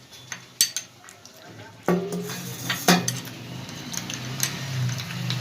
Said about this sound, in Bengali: এবার আমি এটাকে আগে এই গুঁড়ো মশলাটাকে আমি একটু গুলে রেখে দেবো সাইডে।